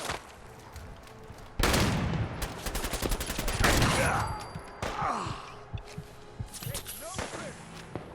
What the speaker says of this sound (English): They're shooting electrical bolts.